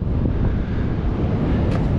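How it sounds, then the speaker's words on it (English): Strong wind buffets the microphone on a beach, a loud, dense low roar that rumbles without a break, with surf faintly mixed in and no talking. "Sorry about the wind."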